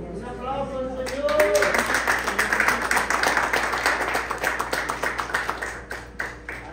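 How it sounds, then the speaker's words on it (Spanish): A church congregation breaks into applause after a short spoken line, a dense run of many clapping hands that builds quickly, holds steady for several seconds and thins out toward the end. "Un aplauso al Señor."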